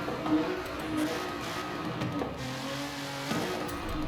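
Nissan Z Nismo sports car engine in Forza Horizon 5, a steady mid-level hum with gear shifts and rising tones, some tire squeal, no talk over it.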